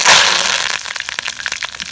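Curry leaves crackling in hot sesame oil with mustard seeds and urad dal while tempering for amla pickle, a loud burst of sizzling followed by quick irregular pops and spits.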